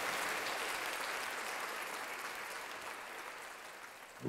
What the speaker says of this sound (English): there goes the applause